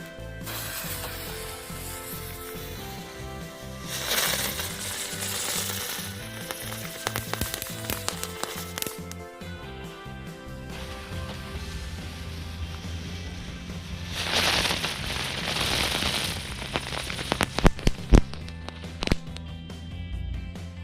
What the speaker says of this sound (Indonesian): Kita coba sekali lagi gangsing jumbo ini yang warna biru.